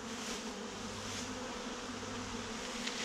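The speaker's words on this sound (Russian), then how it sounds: "пчела еще здесь вьется." Steady, close insect buzzing from a bee hovering near a swarm box at an apiary, continuous and droning throughout, with no voices.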